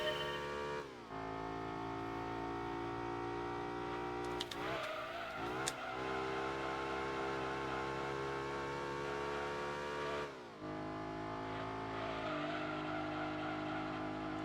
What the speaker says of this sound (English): Interesting engine sound, though.